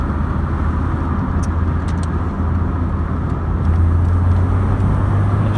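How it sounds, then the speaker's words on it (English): A car engine hums steadily up close as the vehicle drives along, the drone swelling louder near the end as it speeds past slower traffic. "I just overtake a couple of these slow moving cars"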